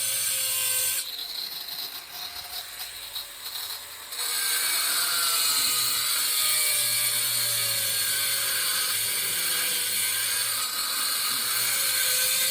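Angle grinder core-drilling through ceramic tile, a steady high whining grind that eases briefly then returns at full strength and holds loud and close throughout.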